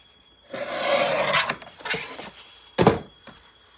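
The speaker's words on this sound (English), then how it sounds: "I do need to trim this up just a little bit" Paper being trimmed for a 9 x 9 scrapbook album page, heard as a few close, dry rasping strokes with a sharper burst near the end.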